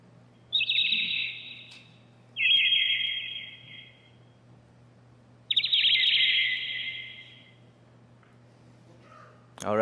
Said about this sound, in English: Already starting to sound like alien birds.